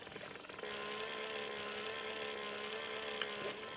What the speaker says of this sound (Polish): Piła tarczowa.